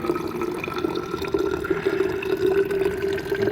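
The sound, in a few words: water being filled or running from a tap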